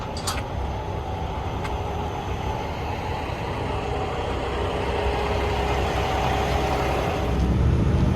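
Trucks move and idle at the Evergreen port container terminal, a steady low engine rumble with a constant wash of traffic noise that swells slightly near the end.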